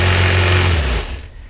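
A car starter motor runs on a bench from a jump box, a loud steady high-pitched whine that holds at full speed, then cuts off and spins down in the final half second.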